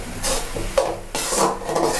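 Curry leaves and chillies sautéed in a pan for prawn sambal, with a spatula scraping and stirring in steady strokes over a soft sizzle, close and moderately loud, with no talk.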